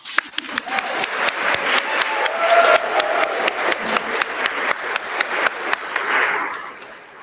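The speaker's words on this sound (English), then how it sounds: "Let's give another round of applause." A crowd at the EFF Awards 2022 ceremony claps in a steady, rhythmic unison beat, loud and close, holding for several seconds before easing off at the end.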